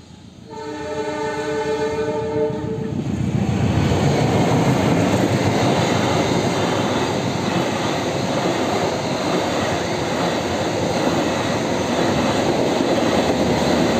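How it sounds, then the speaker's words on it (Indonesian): Train in the mobile board game LINE Let's Get Rich, a horn blast followed by a loud, sustained rumbling rush of the passing train lasting several seconds, with no talking. "Lah, malah ada kereta lagi."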